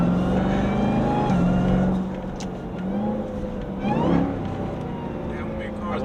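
Supercharged Jeep Trackhawk tuned to about 900 hp, its engine droning and rising on a downshift, passing with a swell near the fourth second, loud and close under steady talk.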